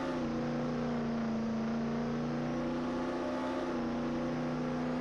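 A Bugatti sports car engine in the Roblox game Jailbreak holding a steady, close rev with a smooth sustained tone that rises slightly partway through, loud and unbroken.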